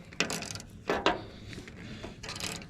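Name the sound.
ratchet wrench turning bolts on a John Deere 1209 mower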